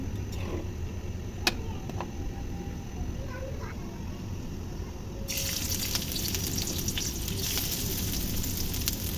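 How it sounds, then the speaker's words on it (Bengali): Lentils with coriander, turmeric, chopped onion and chili are stirred in a frying pan with a little water, giving a steady sizzle that swells louder partway through. "তারপরে একটু পানি দিয়ে এটাকে নাড়াচাড়া করে রান্না করে নিতে হবে"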